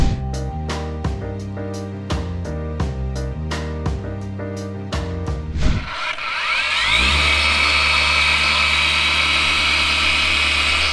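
A DeWalt 20V random orbit dual action polisher (DCM848P) working on a Subaru Forester's paint: after several seconds of music, a steady whirring drone rises in and runs loud to the end.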